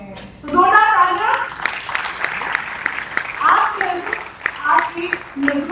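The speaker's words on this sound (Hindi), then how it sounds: "तो जोरदार तालियां" Audience applause at a storytelling and poetry event, a burst of clapping rising after a brief pause and continuing in uneven waves, mixed with voices from the crowd.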